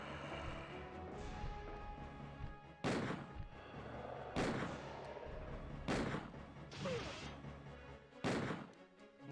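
Gunshots in Resident Evil 2, five loud, sharp blasts spaced roughly one to two seconds apart over a dense, rumbling game background.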